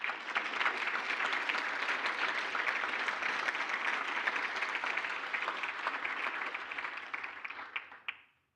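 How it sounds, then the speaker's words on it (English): A large audience gives a sustained round of applause at a public forum on accountability and justice, dense even clapping holding steady for about eight seconds before fading out abruptly. "Let's give them a special round of applause."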